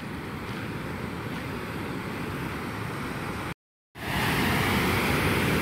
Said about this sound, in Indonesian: Di depan saya ini celah yang jebol dan kelihatan airnya deras sekali dan keruh ya.